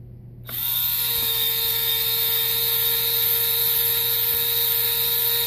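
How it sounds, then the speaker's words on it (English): An automatic screw remover machine unscrews a screw with a loud, steady high-pitched motor whine that starts abruptly and holds on, with faint clicks over it. "the screw is going to be unscrewed until the accelerometer triggers"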